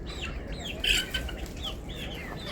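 Desi village hen chicks on a farm, kept after the laying hens were sold, give high, thin peeping calls in quick scattered bursts, close by and fairly clear over a steady background hiss.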